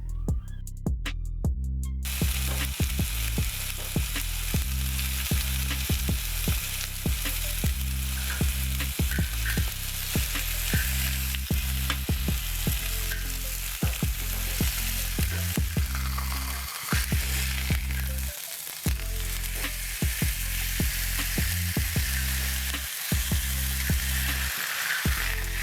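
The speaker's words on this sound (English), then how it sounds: "Let it sizzle some more, and in a few minutes we will turn it." Premium beef steak searing in a hot pan, a loud steady sizzle with crackling spatter continuing throughout, close and without talk.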